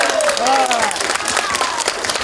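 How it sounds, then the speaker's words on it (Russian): An outdoor audience at a park festival applauds, a steady patter of many clapping hands heard briefly, with voices talking over it. "Гости фестиваля встретили ее бурными аплодисментами"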